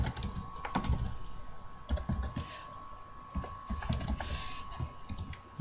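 Keyboard typing while entering JavaScript code on a computer: steady runs of close, crisp key clicks with short pauses, a faint constant hum in the background.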